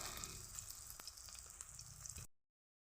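Radish chops frying in hot oil, a steady close sizzle and crackle that runs alone for about two seconds before cutting off to silence.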